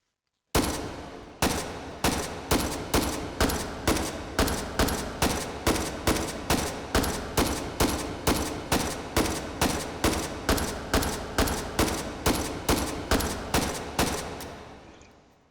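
An AKM rifle fires in the VR game H3VR in one long, steady string of about two dozen loud, evenly spaced shots, each cracking sharply with a short decay, and no talking.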